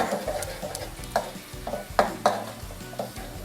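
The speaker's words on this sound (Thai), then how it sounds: "น้ำมันร้อนแล้วนะคะใส่กระเทียมที่เราโขกไว้ลงไปเลย หมั่นคนนะคะ" Crushed, pounded garlic sizzles steadily in hot oil in a pan, with repeated scraping stirs that give sharp knocks and bursts over the constant frying hiss, close up and with no talking.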